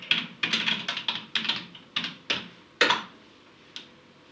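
Username and password typed on a computer keyboard: a close run of quick, uneven key clicks in bursts, thinning out into a few last isolated taps with nothing else heard.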